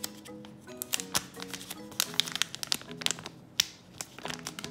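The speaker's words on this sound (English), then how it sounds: "It's basically a big Ziploc bag." A big Ziploc-style plastic bag from a medical kit crinkles and crackles close up, with quick irregular rustles and sharp snaps as it is handled.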